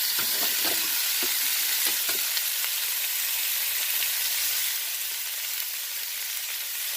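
Udon noodles sizzle steadily in hot oil in a pan inside a campervan. A dense, hissing fry with a few clicks and pops early on, easing slightly toward the end.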